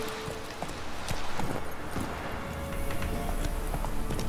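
Horse hooves clip-clopping at a steady trot in The Witcher 3 game, a continuous rhythmic clatter over game ambience and background music.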